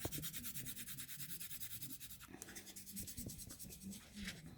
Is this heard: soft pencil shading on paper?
yes